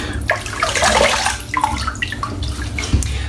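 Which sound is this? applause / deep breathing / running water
running water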